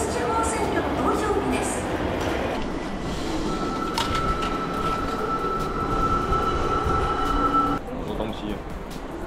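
An Osaka subway train rumbles steadily close by, with a sustained metallic wheel whine running through the middle of the ride and voices talking faintly beneath the roar.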